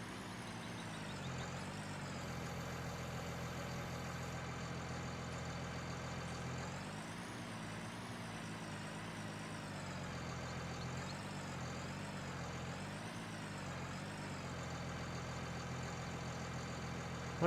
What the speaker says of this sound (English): And now we've got the tractor start.